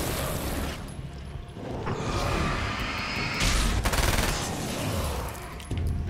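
SMG fire in the video game Alan Wake's American Nightmare, rapid bursts of gunshots at moderate loudness with mechanical clatter between volleys.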